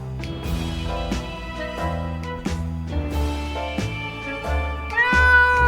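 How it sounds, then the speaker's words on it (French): A cat meows in the survival video game 60 Seconds. Several short meows come over a steady layer of game music, loud and close. "Un chat nonchalant."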